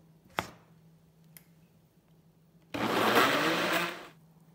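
A kitchen blender whirs loudly for about a second and a half as it mixes oil, sugar, water and carrot for carrot cake batter, after a couple of sharp knocks as the jar is set in place.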